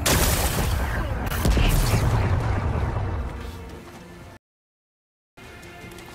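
Rocks blasted apart in Horizon Forbidden West, with heavy booming bursts and rumbling debris loud at first, easing into a softer rumble before a sudden silence and then quieter background sound.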